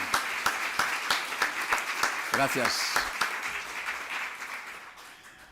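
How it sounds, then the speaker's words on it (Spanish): Audience clapping welcomes a speaker at an astrology talk, a moderate patter of hands heard under a voice giving thanks, then fading out near the end. "Le recibimos con un aplauso,"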